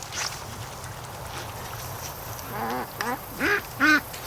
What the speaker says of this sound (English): These are juvenile ducks that are down here.